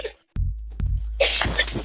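A single sharp sneeze bursts out close to the mic, followed by a short burst of breathy noise and movement as someone reacts.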